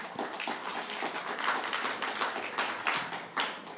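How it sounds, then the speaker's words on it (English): An audience at a 150th anniversary mission celebration claps for presenters on stage, giving a steady, moderately faint wash of hand claps that keeps an even level throughout. "can we affirm them by clapping for them?"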